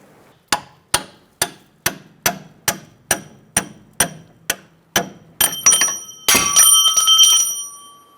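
A punch is tapped out of a 2002-2006 Toyota Camry front strut assembly with about a dozen evenly spaced sharp metallic hammer strikes, followed by louder ringing clanks as the metal shifts.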